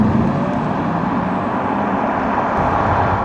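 A Porsche Taycan electric car rolls along the road, heard from inside the cabin as a steady, moderate broadband hum of tire and road noise with no voices.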